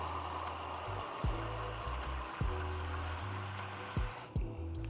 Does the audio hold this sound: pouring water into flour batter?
yes